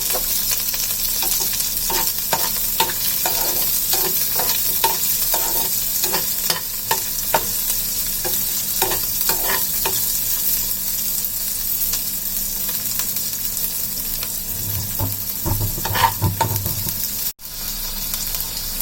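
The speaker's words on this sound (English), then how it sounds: "Saute it until the onion gets translucent." Onion and fennel seeds sauté in a pan for chicken salna, giving a steady close sizzle with frequent scraping stir strokes, loud and continuous.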